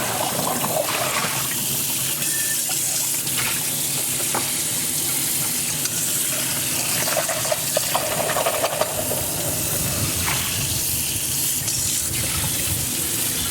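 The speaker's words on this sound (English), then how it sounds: "if I lean too far over, then you get the sound of the water." Tap water runs steadily into a kitchen sink, a continuous close hiss and splash lasting throughout with no talking over it.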